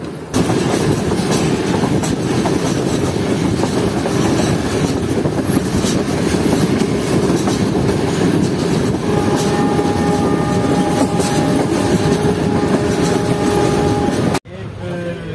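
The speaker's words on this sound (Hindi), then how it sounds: "हमारी ट्रेन जो है वो कुछ ही देर में पहुंचने वाली है गुजरांवाला रेलवे स्टेशन पर" Pakistan's first privatized rail car runs on the main line from Lahore to Rawalpindi, filling the clip with a loud, steady rumble and rattle of wheels on track. The roar stays close and continuous, then drops out abruptly near the end.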